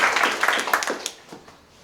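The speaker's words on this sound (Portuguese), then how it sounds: "salva de palmas para o nosso presidente" Applause for the president at a business meeting, a short burst of clapping from a small group that thins out and fades within about two seconds.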